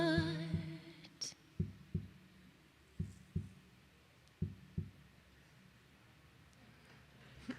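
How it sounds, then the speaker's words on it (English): Soft, low heartbeat-like thumps played as a rhythmic pattern in a live song at a spiritual service, paired double beats repeating at a steady pace, faint and close, fading toward the end. "You have a little heartbeat going on, right?"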